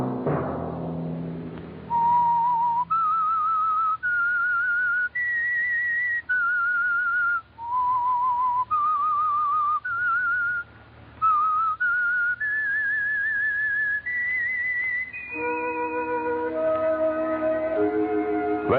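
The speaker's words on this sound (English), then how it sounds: "Let that whistle be your signal for the Signal Oil program" A whistled theme tune for the radio drama The Whistler, a lone clear melody of sustained notes rising and falling in steps, loud and close, ending on a fuller held chord with orchestral accompaniment.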